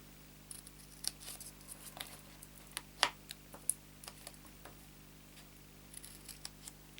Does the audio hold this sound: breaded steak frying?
no